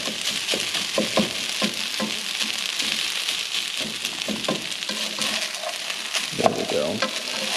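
Rice and beans fry and get stirred in a hot pan, giving a steady, close sizzle broken by repeated scraping stir strokes for the whole stretch, with no talking.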